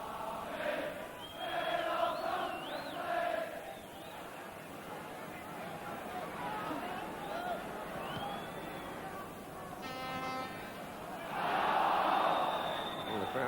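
Football crowd at Liverpool versus Benfica roaring an appeal for handball, a dense continuous swell of massed voices that rises and falls, with a match commentator talking over it.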